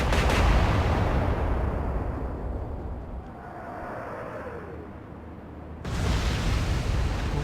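Naval guns fire a staggered salvo in the warship game Atlantic Fleet, a heavy rumbling boom that rolls on and fades, then a second loud blast near the end, with no talk.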